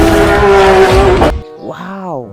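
A toy race car gives off a loud, revving engine whine and tire screech that cuts off abruptly, followed by a brief tonal voice-like sound, all close up.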